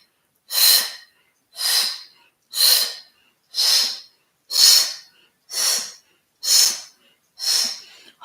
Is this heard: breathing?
yes